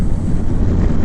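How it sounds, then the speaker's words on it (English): Heavy wind roars across the microphone on a moving Honda Gold Wing motorcycle in a loud, continuous low rumble with no other sounds standing out. "It is very windy out here."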